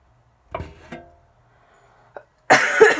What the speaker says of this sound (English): I didn't have this cough.